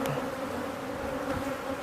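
A wasp buzzes steadily and close by near honey bee hive frames during an inspection, a short continuous drone with no talk.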